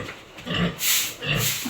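A sow grunts in her pen on a Filipino family farm, with a few short low grunts and snorts heard close up alongside splashing and bursts of hissing water.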